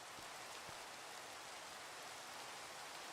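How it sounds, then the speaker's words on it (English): Steady rain hisses evenly in the Minecraft game world, a broad constant patter with a couple of faint soft taps near the start. "but this rain is annoying"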